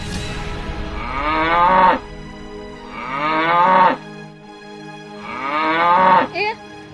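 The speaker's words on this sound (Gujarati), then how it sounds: "આ ભેંસ ક્યાં ગઈ" Several loud drawn-out bellows from buffalo, three long calls each about two seconds with short pauses between, close by and with no voices over them.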